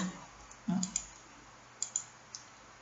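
A computer mouse gives a few quick, quiet clicks, including close pairs like double-clicks, in an otherwise hushed room.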